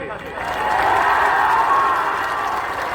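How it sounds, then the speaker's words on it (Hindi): A crowd at a public gathering in Jharkhand gives loud applause for women's power, a dense, steady wash of clapping with some cheering that swells after a quiet start and holds. "एक जोरदार ताली होना चाहिए नारी शक्ति खातिर"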